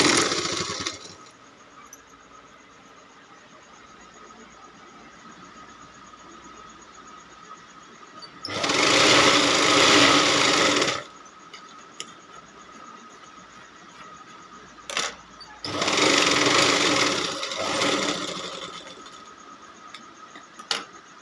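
A sewing machine stitches a two-inch border onto a homemade godhadi quilt made from an old saree. It runs in two loud bursts of steady whirring, a few seconds each, with a brief blip between them, against a quiet room.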